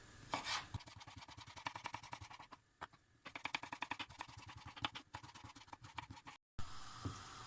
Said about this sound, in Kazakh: Атай ұсақ-ұсақ қылып, соломка қылып тураймыз қызылшамызды.